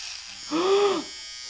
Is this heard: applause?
no